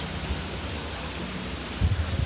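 Rain falling heavily outdoors, a dense steady hiss of drops close by, with a few low rumbling bumps near the end.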